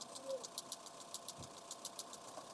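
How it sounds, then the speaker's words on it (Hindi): Honda City i-VTEC engine idling with a cylinder misfire, a faint steady hum broken by regular sharp ticking knocks about three to four per second, close up with no talk. "इंजन पूरा काँप रहा है, ज़्यादा वाइब्रेशन हो रहा है और साथ में टक टक टक आवाज़ भी आ रहा है।"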